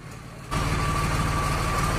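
A Swaraj tractor engine idles with a steady low rumble and even rhythmic throb, starting abruptly partway through and continuing at constant level, no voices.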